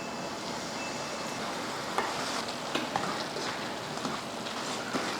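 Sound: stirring chicken pickle with lemon juice in a pan

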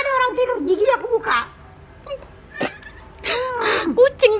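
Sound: cat meowing

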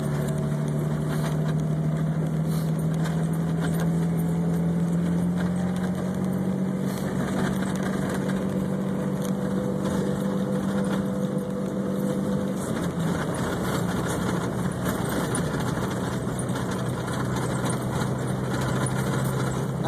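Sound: Jeep Cherokee driving in 4x4 high

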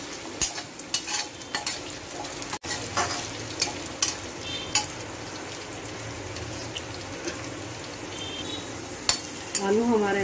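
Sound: potatoes frying and being stirred in a pan

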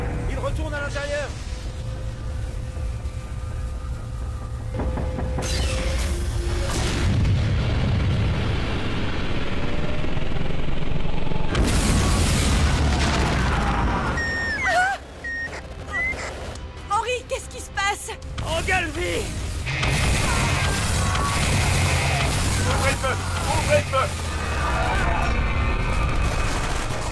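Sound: spaceship firing, explosions in a film

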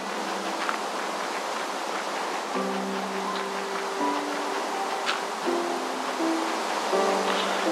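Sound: underground waterfall in video game Minecraft Tekkit

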